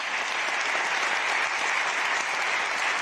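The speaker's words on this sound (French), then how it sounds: "Applaudissements, s'il vous plaît." A crowd applauds at the inauguration of the Paris Saint-Germain training campus, the clapping loud, dense and unbroken from start to finish, like a large gathering cheering together.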